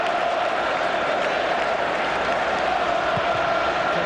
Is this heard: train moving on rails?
no